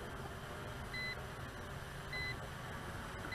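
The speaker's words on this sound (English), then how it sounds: "beeps are still being emitted" Faint electronic beeps from a ZLL SG906 MAX GPS drone repeat at a steady interval, about three short tones over a low, constant mechanical hum.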